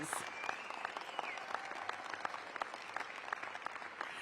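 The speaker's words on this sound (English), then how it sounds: "Let's do a round of applause, please." At a mayoral hospital announcement, an audience gives a modest round of applause for partners, a soft, somewhat distant wash of clapping with a few sharper nearby claps standing out.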